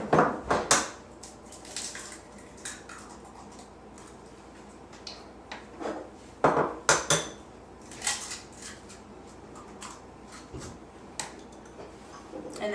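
Eggs go into pancake batter in a mixing bowl, with scattered clinks and taps of shell and utensils against the bowl, separated by quieter gaps. The sounds are close and moderately loud.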